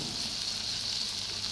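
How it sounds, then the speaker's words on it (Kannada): Paneer cubes frying in a hot pan with Schezwan chutney for a veg roll, giving a steady, continuous sizzle close up with no talking. "ಈಗ ಪನ್ನೀರ್ ಹಾಕ್ತಿದ್ದೀನಿ."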